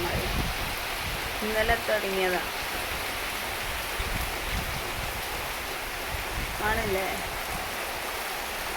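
Heavy rain falls in a steady roar during a windy storm, while someone speaks briefly over it in two short phrases.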